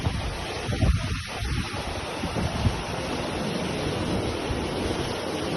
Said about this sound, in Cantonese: 全部白頭浪